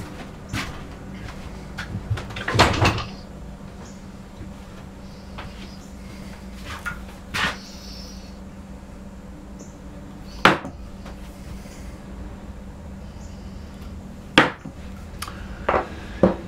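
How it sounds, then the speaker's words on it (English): A narrow carving chisel is struck into a wooden drawer front. Sharp, scattered knocks and taps land at irregular intervals, a few louder than the rest, over a quiet low background with no talking. "I just need a narrow chisel to hit those two parts."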